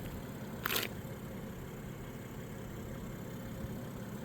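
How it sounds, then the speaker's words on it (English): A BMW M140i Shadow Edition's 3.0-litre turbocharged straight-six petrol engine idles, automatic gearbox, as a faint, steady low hum with one brief click near the start. "you can hear the engine. It's the straight 6-cylinder turbocharged petrol."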